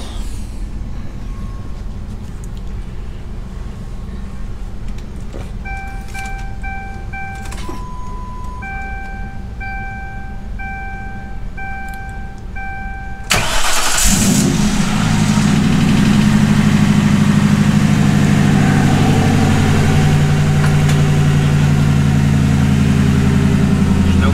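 A Ford Crown Victoria engine, newly fitted with a 5-speed manual transmission, cranks and catches in neutral for its first start, then settles into a loud, steady idle that continues to the end, following quieter background noise with a few brief electronic tones.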